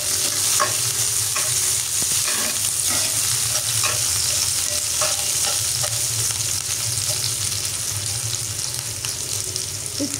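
Three to four cloves of chopped garlic fry and are stirred in a pan for a Bengali shrimp and Malabar spinach dish, giving a steady close-up sizzle with a continuous hiss and occasional scraping stirs throughout.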